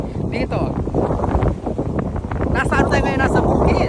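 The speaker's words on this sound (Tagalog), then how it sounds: "Ang sarap lang magpahangin kasi malakas ang hangin ngayon guys." Strong wind gusting across an open farm field, a loud steady rush buffeting the microphone throughout, with a person talking over it.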